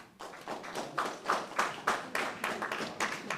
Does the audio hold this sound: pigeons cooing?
no